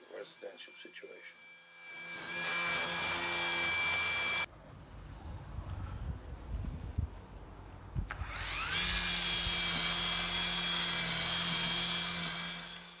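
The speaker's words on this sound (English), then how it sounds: "This is when the Strimmer comes into its own." Ryobi OLT1833 cordless grass trimmer edging a lawn, a high whining motor that spins up, cuts with a rougher buzzing stretch in the middle, then revs back to a steady whine, close by.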